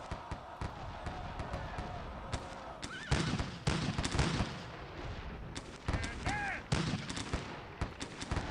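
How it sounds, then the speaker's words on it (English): Musket fire crackles in Sid Meier's Gettysburg, with scattered sharp shots and louder clustered volleys at irregular intervals, alongside occasional voices. "They're already taking fire."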